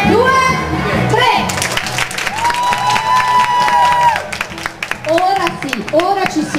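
A studio audience claps and cheers loudly throughout a rehearsed ovation for an award ceremony. A voice calls out over the dense applause and cheering, and it dips briefly before surging again.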